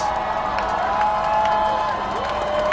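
A protest crowd cheers in Seattle's Red Square during a march, a dense continuous roar of voices with scattered whoops and claps, loud and close throughout the short span.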